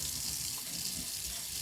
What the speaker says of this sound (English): I'm going to run this under the water